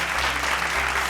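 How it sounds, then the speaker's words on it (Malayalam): A dense, continuous wash of applause from a large audience at a street magic show, loud and even for the whole second with no gaps. "ഒരു വലിയ ക്ലാപ്പ്, ഒരു വലിയ ക്ലാപ്പ്."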